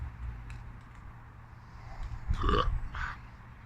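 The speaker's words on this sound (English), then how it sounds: "Nice carbonate, lovely flavour on the burp as well" A single burp after a sip of Mikkeller SpontanPentadrupelBlueberry beer, a short throaty belch rising out of quiet room hiss near the middle, close and moderately loud.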